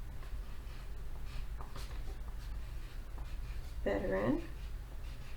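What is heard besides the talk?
pencil tracing words on paper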